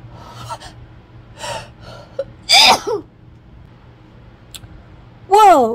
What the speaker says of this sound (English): Hopefully I'm done sneezing.